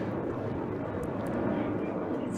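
Saab J-35 Draken jet at an air display, a steady broad roar of engine noise sustained throughout, loud and continuous with no clear rise or fall.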